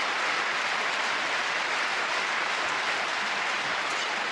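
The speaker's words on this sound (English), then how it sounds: "The crowd really appreciating some fine table tennis here in Dusseldorf." A large arena crowd at a table tennis world championship semi-final in Dusseldorf claps loudly and steadily without a break. The applause has a dense, rain-like texture and continues with no voices over it.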